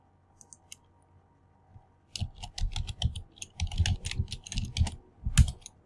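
Fingers type on a computer keyboard, a quick close burst of clicking keystrokes after a few isolated taps, with no voice.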